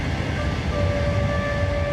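A passenger train runs steadily on its rails, with a continuous low rumble and a faint tonal whine throughout, heard from inside a carriage.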